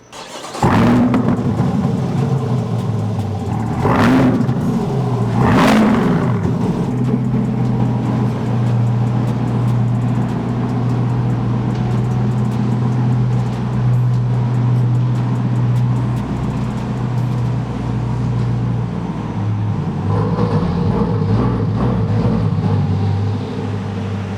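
A car engine revs sharply twice, then settles into a steady, loud drone as the car pulls away in drive mode, with the engine tone shifting near the end and no talking.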